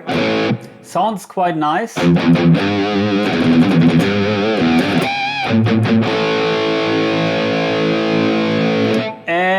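Electric guitar played through a NUX MG-30 multi-effects unit with reverb, ringing chords and sustained notes trailing off, mixed with someone speaking over parts of the playing.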